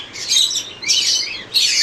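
Several birds chirp loudly up close in repeated bursts of high, busy twittering in a pet bird shop selling foreign birds and pigeons, like a roomful of caged birds, with no talking.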